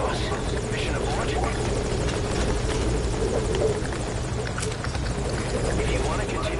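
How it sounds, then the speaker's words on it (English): A helicopter in Metal Gear Solid V drones steadily nearby, its rotor thumping in a constant low pulsing hum throughout, with voices talking over it. "If you want to continue the mission, move away from the chopper."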